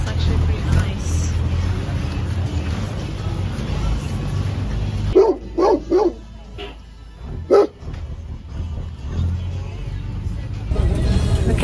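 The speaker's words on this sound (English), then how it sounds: "This dog lives here." A dog barks in a few short bursts midway, close by, over a steady rumble of a moving bus on a dark road through Colombian countryside between Salento and Jardin, with people talking.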